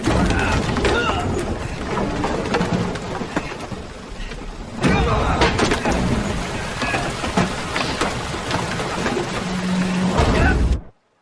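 Heavy rainstorm at sea aboard a boat in The Witcher 3: Wild Hunt, with loud dense rain and rumbling, wind-like roar filling the scene, a brief dip midway and then an abrupt cutoff at the end.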